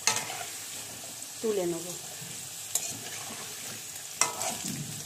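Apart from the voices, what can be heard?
potatoes frying and being stirred in a pan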